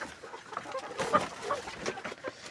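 Soft, scattered clucks from chickens eating feed close by, irregular and low-key, with faint pecking and shuffling between calls.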